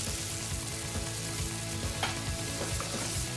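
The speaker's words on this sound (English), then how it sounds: "Bring that up to the boil and let it simmer for 3 to 4 minutes." Steady bubbling sizzle from chicken simmering in stock in a frying pan on the stove, a continuous close hiss with faint clinks and stirring noises now and then.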